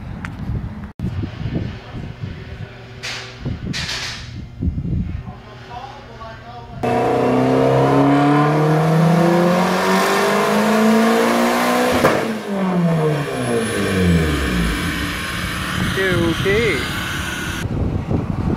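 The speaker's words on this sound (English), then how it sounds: "Last pull sounded cool as hell, especially when it backfired out of the exhaust." A turbocharged 405 hp D16 Honda Civic engine revs hard, rising and falling in pitch through several pulls, with sharp exhaust backfire pops and some talking early on.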